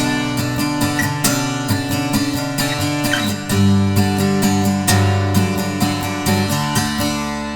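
Acoustic guitar strumming a song's intro at a faster tempo, steady down-up rhythm of ringing chords played close and loud with no voice over it.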